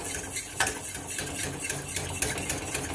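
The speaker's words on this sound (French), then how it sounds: "Bien remuer" A utensil stirs batter in a bowl for a tart dough until it turns foamy, giving a steady, close scraping and clinking with light knocks against the bowl and no voices.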